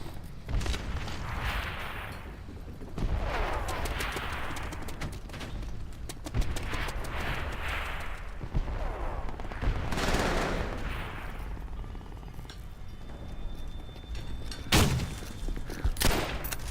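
Gunfire in the 2001 game Black & White, heard as repeated bursts of loud, sharp shots in several clusters across the stretch, with a few isolated cracks near the end.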